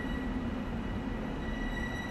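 A Long Island Rail Road train coasts at about 10 miles an hour in Train Sim World 2020, giving off a steady, dense rumble of wheels and running gear with a faint high whine, no breaks and no voices.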